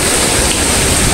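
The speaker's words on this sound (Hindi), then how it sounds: "बहुत अच्छी हो रही है ना बारिश" Rain falls heavily and steadily, a loud, even hiss of water with no break and no voices over it.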